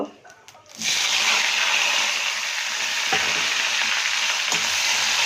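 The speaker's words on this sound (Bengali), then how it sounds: "একটু ভাজা ভাজা করে নিই" Steady, loud sizzling of chopped onions frying in hot oil with bay leaf, a dense crackling hiss that starts abruptly and continues throughout with occasional soft clinks.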